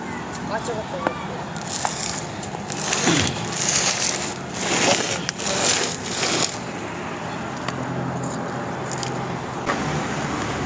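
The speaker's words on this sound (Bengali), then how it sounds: "সাইড সাইড হালকা কিছুটা মাটি তুলে মাটিগুলো তুলে নেবো নাহলে ড্রামটা ছাড়বে না" A crowbar-type tool digs and scrapes soil loose around a planted drum, producing bursts of crunching and gritty scraping from close by, with some background noise between strokes.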